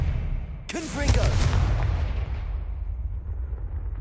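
The Confringo explosive spell in Hogwarts Legacy goes off after a short quiet lead-in, a sudden loud crackling burst with a brief tonal warble, then a rumbling, fading tail that stays present.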